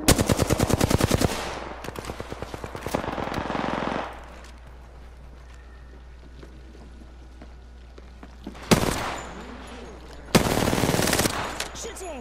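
Rapid automatic gunfire in a battle royale video game, loud bursts of shots at the start, then quieter scattered shots, a lull, and two more sharp bursts near the end.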